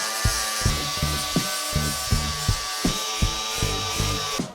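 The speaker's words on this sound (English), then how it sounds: "next step is to get my fibre sanding disc" An 80-grit fibre sanding disc grinds down welds on a 4WD ute build, with a loud, close, rhythmic rasp that pulses in quick, even strokes over a steady whining tone.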